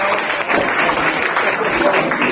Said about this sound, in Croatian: Jednako dajte aplauz za Jadranka, molim vas.